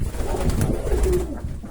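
A pigeon coos nearby, a soft low rolling call repeated over a couple of seconds.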